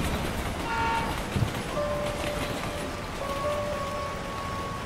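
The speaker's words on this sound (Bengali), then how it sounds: "বৃষ্টি পড়ছে এক নাগারে টিনের ওপর। বৃষ্টির শব্দটা এক অদ্ভুত শিহরণ জোগাচ্ছে।" Steady rain pattering on a tin roof, a continuous dense hiss with faint tonal hums running underneath throughout.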